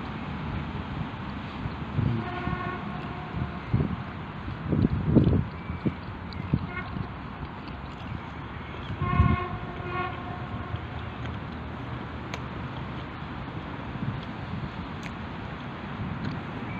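A suburban electric commuter train passes, a rumbling, rattling run of wagons with two bursts of horn sounding partway through, heard from nearby over a low steady background.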